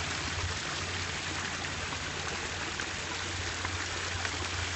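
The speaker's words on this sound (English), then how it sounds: "And this is a fairly simple waterfall display." Water runs over a simple waterfall display built of moss rock in a water feature showroom, producing a steady, close rushing splash that stays even throughout with no voices.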